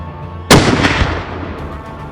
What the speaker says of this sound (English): Ian readies himself, and a good clean shot ensures that the roe is down.